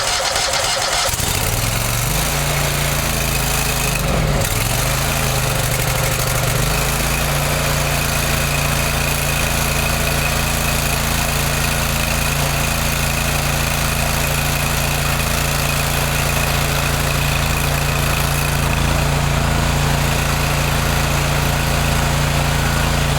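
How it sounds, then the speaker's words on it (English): A 31HP engine on a 3500 PSI hot water pressure washer cranks and catches within a couple of seconds, then runs at a loud, steady drone. "We'll go ahead and start the engine here."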